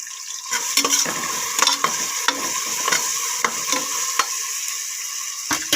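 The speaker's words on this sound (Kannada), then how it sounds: "ಸೊ ಇದೊಂದು ಸ್ವಲ್ಪ ಫ್ರೈ ಆಗಿದೆ." Spiced vegetables sizzling in a pan as a utensil scrapes and stirs, steady frying hiss punctuated by repeated sharp scraping strokes, close and loud with no talking.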